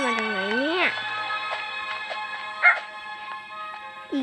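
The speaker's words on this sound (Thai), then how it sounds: "ก็เสียงหมาหอนตรงนี้" A dog's long, wavering howl rises and falls at the start, followed by a few shorter yelps and whines nearby, with faint background noise.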